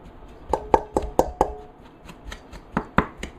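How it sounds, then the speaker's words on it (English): A knife chops chocolate chip cookie dough and butter on a board with about a dozen sharp, close taps, first in a quick run and then in slower, evenly spaced strikes. "Kind of chop that up a little bit so they're not into hard pieces."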